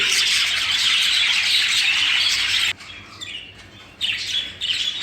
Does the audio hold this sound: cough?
no